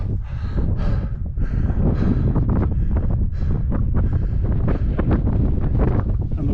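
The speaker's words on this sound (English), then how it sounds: "the wind is definitely getting up now" Strong wind buffets the microphone on a Lake District hike in the Langdale Pikes, a loud continuous rumbling roar with gusty surges throughout and no voice heard.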